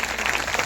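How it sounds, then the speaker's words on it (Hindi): A brief burst of hand clapping from a church congregation during a Hindi-language service, a dense, steady patter of many hands heard close and fairly loud. "तालियां बजाने का प्रभु के लिए जोर"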